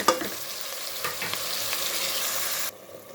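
Chopped tomatoes hitting hot masala in a pot of chicken pulao, a steady broadband sizzle and frying hiss with some stirring scrapes, cutting off abruptly near the end.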